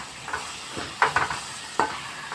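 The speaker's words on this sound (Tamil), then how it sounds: "நல்லா ஃபுல்லாக எண்ணெயில் நல்லா வதக்கி விட்டுருங்க" Curry leaves sautéing in oil in a pan for a chutney, a steady close sizzle broken by a few sharp scraping stirs of a spoon against the pan.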